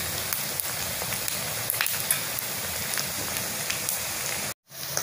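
Pieces of pitha frying in hot oil, giving a steady, dense sizzle and crackle that holds evenly throughout before cutting out briefly near the end.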